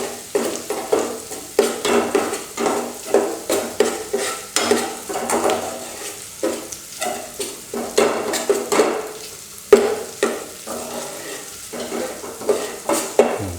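Rhythmic scraping and stirring of garlic in a pot with a soft sizzle underneath, repeated strokes at a steady, unhurried pace.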